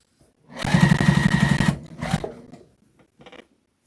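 Sewing machine stitching a scrappy zipper pouch, a loud rapid whirring run of stitches for about a second, then a shorter burst and a faint final few stitches, close and without talk.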